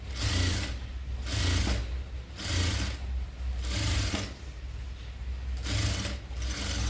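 A sewing machine stitches a sleeve onto a long frill dress, running in several rhythmic bursts of fast stitching separated by brief pauses, close and steady with no talking.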